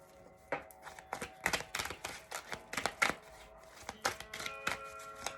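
Quick, sharp tarot card riffles and soft slaps repeat in uneven bursts, close by, with no talking over them.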